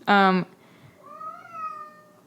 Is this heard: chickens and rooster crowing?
no